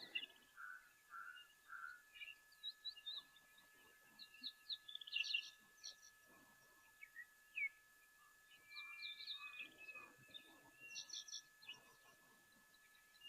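Diederik cuckoo calling at a wildlife waterhole, a faint distant run of short repeated whistled notes coming in bursts among other quiet bird chirps.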